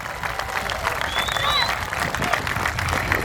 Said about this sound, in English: please give a big, warm round of applause for Mr. Manny Tehran